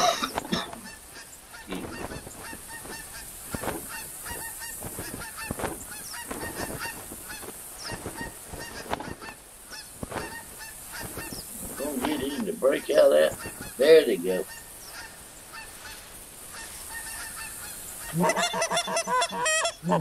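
Geese honk repeatedly during a goose hunt, loud overlapping calls coming in bursts, some near and some farther off, with brief pauses and a noisier rustling stretch toward the end.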